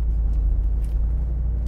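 A Ford Bronco or Jeep Wrangler V8 rolls over a giant speed bump on a city street, giving a loud, steady low engine rumble with faint thumps and no talking.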